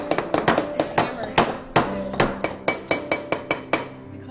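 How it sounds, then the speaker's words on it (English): A metal hammer strikes repeatedly in an art studio, a quick uneven series of sharp ringing clinks, close and loud, with no talking over them. "you can use this hammer"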